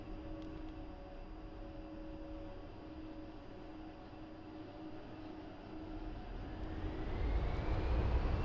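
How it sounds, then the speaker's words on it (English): A-10C twin jet engines spool up for takeoff in the DCS flight simulator, a steady close turbine whine and roar with tonal hums that swells louder and deeper over the final seconds. "get lined up and feed the power in and take off"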